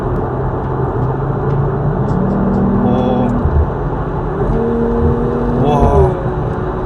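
A 2026 Mercedes-AMG CLE 53 cabriolet with a 3.0-litre engine accelerates through quick manual gear shifts, the engine note rising and dropping in steps under steady cabin road noise, heard from inside the car.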